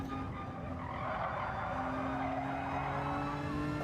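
Race cars braking into a corner in Gran Turismo 7 during an online lobby race, with a steady engine drone and sustained tire squeal running continuously at a loud level.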